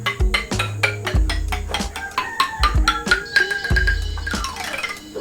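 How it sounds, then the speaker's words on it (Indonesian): Bamboo xylophone, the Xilobam BEP, struck in a quick run of bright wooden notes over deep booming low tones, the notes ringing briefly and overlapping, ending in a shimmering roll. "Jadi ini silofon bambu"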